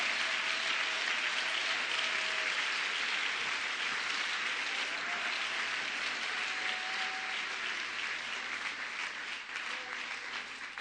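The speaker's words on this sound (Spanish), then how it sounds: "Un aplauso para el nombre de Jesucristo en esta mañana." A church congregation applauds during a Sunday morning worship service, a steady, dense wash of clapping from many hands that fills the room and continues throughout without letting up.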